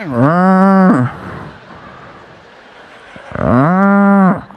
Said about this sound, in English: There's a cow crossing the street while we're driving.